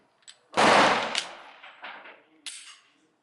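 A test-fired gun using an ETS magazine lets off a loud, close burst of rapid shots that rings out and decays into a couple of fainter echoing reports, with no talking.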